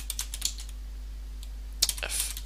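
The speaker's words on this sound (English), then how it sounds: "Let's go ahead and type in fdisk-l." Someone types a command on a computer keyboard, producing a few quick, light key clicks, a short pause, then a brief burst of keystrokes, all close over a steady low hum.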